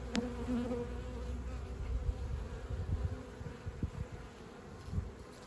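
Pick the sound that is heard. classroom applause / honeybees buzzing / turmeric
honeybees buzzing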